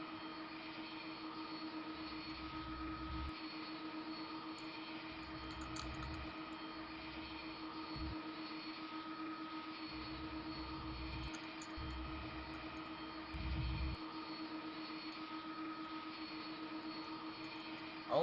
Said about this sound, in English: Yeah, we're using the MD-11.